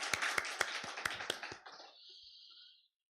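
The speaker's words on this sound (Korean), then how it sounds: "박수 한번 합시다." A church congregation claps during a Sunday worship service, a short burst of separate hand claps that thins out and fades after about a second and a half, leaving a faint ringing tail.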